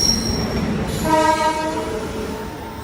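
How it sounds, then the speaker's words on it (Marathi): A passenger train bound for Mumbai pulls in with a rumbling roar, a long horn blast sounding midway over the steady rail noise. "आई ट्रेन आली आहे"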